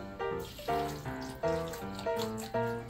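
Beef broth poured into a large pot of corned beef stew with carrots and onions, a continuous close gurgling pour with bubbly, glugging pulses about twice a second, no talk.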